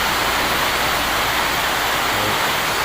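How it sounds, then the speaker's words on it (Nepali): Steady rain pours down in a dense, even hiss that stays constant and close throughout, with no voices or other sounds over it. "पानी परिरहेको छ मिठो पारामा है"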